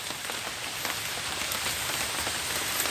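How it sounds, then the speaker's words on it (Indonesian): Light drizzle falling during a stormy fishing outing, a steady soft patter of raindrops on surfaces with scattered individual drops standing out, continuous and moderately quiet, with no voices. "Sepertinya hujan mas bro, gerimis. Itu mas bro, hujan ini."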